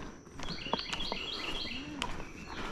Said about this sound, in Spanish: ¿Oyen los pájaros?